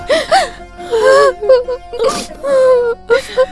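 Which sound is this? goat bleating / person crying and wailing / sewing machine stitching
person crying and wailing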